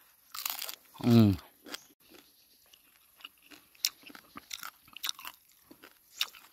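Crunchy chewing of grilled banana heart outdoors, one loud bite near the start followed by many small close crunches and chews, with brief voice sounds early on.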